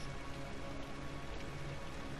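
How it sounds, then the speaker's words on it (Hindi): Heavy rain in the video game Rise of the Tomb Raider, a dense, steady, even hiss of downpour with no talking, fairly faint. "झमाझम बारिश हो रही है झमाझम बारिश"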